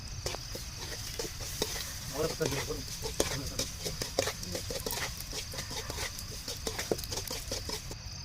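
Rabbit meat with dried red chillies and other ingredients sautéing in a pan outdoors on a farm, a steady close sizzle and stirring crackle running throughout, with a voice talking over it.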